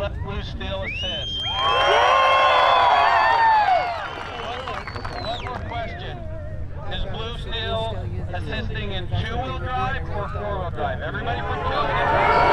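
A crowd at an off-road wrecker games event cheers and claps, swelling into a loud burst of shouting and applause before settling into a steady murmur with voices talking over it.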